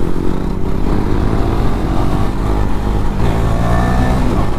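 A Yamaha R15 motorcycle engine revs hard nearby, a loud, continuous buzzing roar that rises in pitch toward the end.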